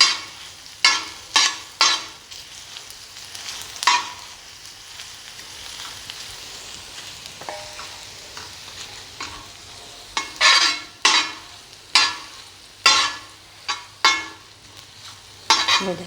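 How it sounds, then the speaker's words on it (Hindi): Onions frying and being stirred on a hot tawa, a steady sizzle broken by repeated scraping strokes of a spatula against the iron surface, close and fairly loud with no talk. "ये देखिए हमारी प्याज अच्छे तरीके से फ्राई हो रही है।"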